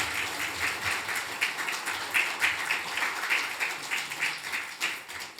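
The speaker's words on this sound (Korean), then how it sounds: "나오실 때 크게 박수로 환영해 주시기 바랍니다." A church congregation at a Sunday service applauds to welcome a guest speaker to the pulpit, with steady, sustained clapping throughout and a slightly pulsing rhythm.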